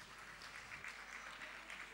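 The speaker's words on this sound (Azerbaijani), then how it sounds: "Bu alqışlar mədəniyyətimizin, musiqimizin alqışıdır" Wedding guests applaud a music ensemble in faint, steady clapping that sounds distant and low in level, with no talk over it.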